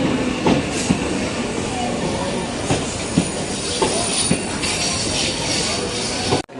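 A first-class AC Chennai local train pulls into platform 1 of a crowded station, loud and close, with rumbling wheels, rhythmic clicks over rail joints, screeching brakes and hissing air, while people talk nearby.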